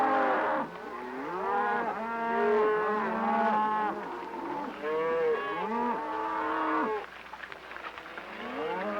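A herd of cattle in Guymon moos continuously, with overlapping long, loud calls from several animals close by and no talking.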